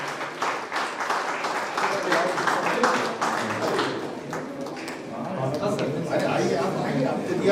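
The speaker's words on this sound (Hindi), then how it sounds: "आप अपने लिए तालियां बजाइए" An audience at a national seminar applauds, a busy stretch of clapping from many hands at moderate loudness, swelling and holding steady, with chatter underneath.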